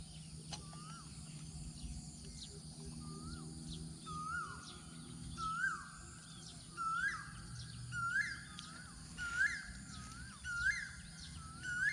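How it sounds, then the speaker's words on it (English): A small songbird in Thailand repeats a short, bright rising call roughly every second, clear and moderately close over a low background hum. "He keeps coming back to the same spot, this little songbird."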